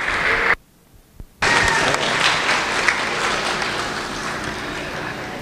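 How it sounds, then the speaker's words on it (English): Audience at a youth goat show applauding exhibitors, broad sustained clapping from a crowd that cuts out briefly near the start, then resumes strongly and continues evenly. "give all these kids a big round of applause"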